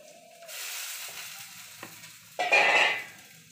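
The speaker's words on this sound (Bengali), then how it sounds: "কড়াই গরম হয়ে গেছে, এবার তেলটা দিয়ে দেবো।" Oil heating in a hot wok hisses softly, then a louder burst of sizzling near the end as something meets the oil, with a light scrape in between; no voices.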